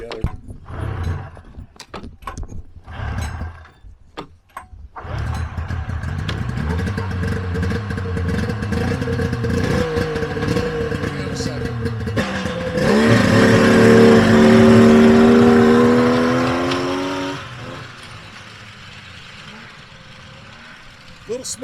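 A Harley-Davidson XLT motorcycle engine runs with the throttle held open, a loud steady roar that climbs into a sustained high-revving howl mid-clip before settling back, with clatter and handling noises early on, during a first start after restoration.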